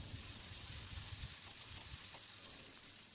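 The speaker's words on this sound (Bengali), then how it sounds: "পেঁয়াজটাকে আগে বেরেস্তা করে তারপরে পরে দিব পেঁয়াজটা ভাজা নিব" Sliced onions frying in oil for beresta. A soft, steady sizzle and hiss comes up close, with small bubbling pops and nothing else over it.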